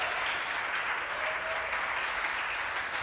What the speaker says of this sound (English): You hear the applause here in Hawthorne.